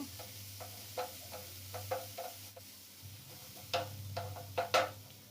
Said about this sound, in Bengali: এক থেকে দেড় মিনিট নেড়ে চেড়ে ভালো করে মিশিয়ে নেব